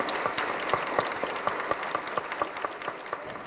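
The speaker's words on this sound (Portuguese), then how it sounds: "Peço uma grande salva de palmas a todos esses membros pelo exemplar comprometimento." An indoor audience at a JCI Brasil Japão lecture event claps steadily in warm, sustained applause, many hands with distinct sharper claps popping through, continuing without voices.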